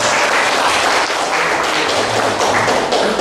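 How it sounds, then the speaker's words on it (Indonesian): Audience applause at a district government coordination meeting in Central Lampung, Indonesia: a dense, steady wash of clapping that runs evenly throughout, with no pauses or talk over it. "Tepuk tangan dulu dong."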